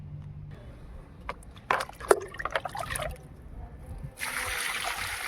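Water from a bucket is poured onto potted plants on a rooftop, with splashing and trickling that come in bursts. A steadier, louder stream of pouring runs at the end.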